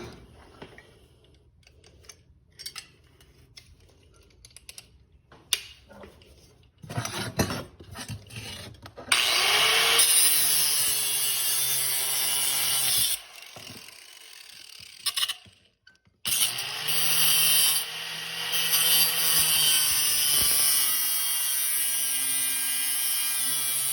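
Grinder cuts a bracket piece off a 79cc Predator engine, starting with scattered scrapes and clatter, then a loud sustained bright whine with a shifting tone that breaks off briefly and resumes, close up and without speech.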